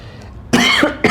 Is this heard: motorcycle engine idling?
no